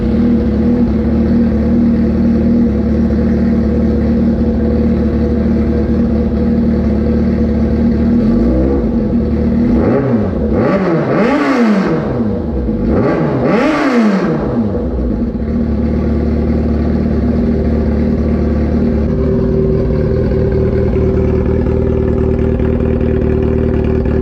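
A Yamaha R6 motorcycle engine idles loudly and steadily, then revs sharply in two quick climbing bursts before settling back to a rough idle.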